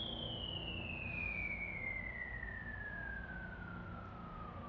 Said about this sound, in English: So here is the bomb dropping.